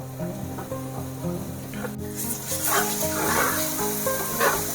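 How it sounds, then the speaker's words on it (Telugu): Onions frying in a pan, a bright sizzle that swells midway and continues under steady background music, with no one talking. "ఆనియన్స్ అంతా ఫ్రై అయిపోయిందండి"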